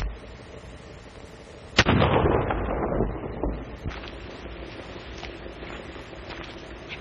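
A sharp gunshot rings out from a 1933 Western comedy, followed by a rumbling echo that fades over a few seconds; fainter cracks and movement come after it.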